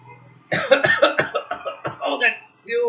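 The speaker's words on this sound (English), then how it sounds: "I have to cough." A string of rough, raspy coughs close to the listener on a busy, polluted street in New Delhi, several bursts in quick succession with a short pause before a final one.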